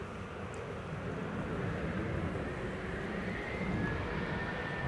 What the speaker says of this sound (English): This is a Delta Airlines Flight 243 to Boston, Massachusetts.